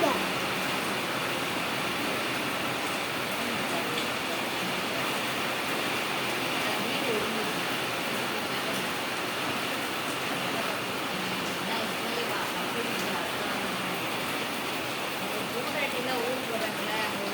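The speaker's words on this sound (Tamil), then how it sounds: "அதனால ரொம்ப நாள் கழிச்சு இன்னைக்கு தான் மழை பெய்யுது." Heavy rain pouring down in Madurai, a steady, dense hiss of falling water that stays constant and fairly loud throughout with no break.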